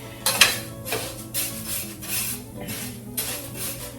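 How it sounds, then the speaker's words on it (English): Dry rice for Mexican rice is toasted and stirred in a pan, giving soft scraping, rustling strokes with a few light clinks of utensil against pan, close and fairly quiet. "I'm just toasting the rice"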